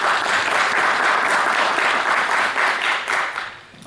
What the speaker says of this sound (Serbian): Aplauz za kandidata Srpske napredne stranke, gospodina Živkovića